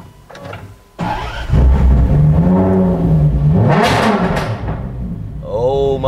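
An Aston Martin One-77 engine starts and revs, climbing and falling in pitch in loud, close bursts before settling, with voices talking briefly at the start.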